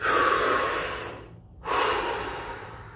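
A deep breath during a guided relaxation scan, a loud close airy inhale, a brief pause, then another long breathy rush of air, with no talking.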